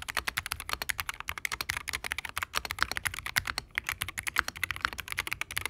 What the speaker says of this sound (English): The KBDFans plates also include switch film that usually results in a marbly sound in most builds